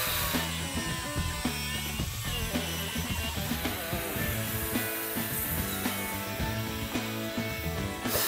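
An angle grinder fitted with a chainsaw disc cuts into a hard piece, giving a loud, continuous, gritty whine that is close and steady throughout, with no talking.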